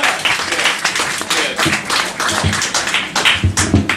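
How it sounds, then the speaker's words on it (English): An audience at a comedy night at Cafe Diem in Richmond, Virginia claps for a comedian: dense, continuous applause with sharp individual claps, loud and close, with no talking. "Give him a big round of applause."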